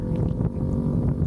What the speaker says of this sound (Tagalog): Normally yan, puro hangin lang.